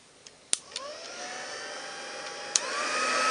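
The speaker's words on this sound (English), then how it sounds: "Let's put that to one side and bring in my heat gun." A Stampin' Up heat gun is switched on to blow hot air for setting embossing powder, with a few sharp clicks and then a steady rising whine and airy rush that grows slightly louder. It sounds close, with no talk.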